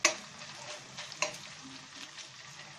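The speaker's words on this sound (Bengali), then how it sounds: "1 টেবিল চামচ রসুন বাটা আর 4 চামচ আদা বাটা আমরা এখানে ভেজে নিচ্ছি" Garlic and ginger paste sizzles in a pan as it is fried for a fish curry with bottle gourd, giving a steady soft crackle with occasional sharp stirring clinks.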